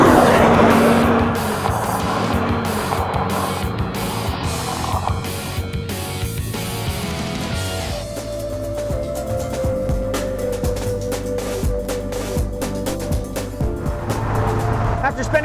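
A 2008 Lotus Elise SC at high speed, with a loud steady engine and road roar, some wind noise and shifting engine tones. Someone talks over it.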